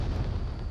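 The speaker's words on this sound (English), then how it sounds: "Roller Toke going to throw a frag out" A frag grenade goes off in the VR shooter Onward during a competitive match, giving a short, dull, rumbling blast heard at a distance without any talking.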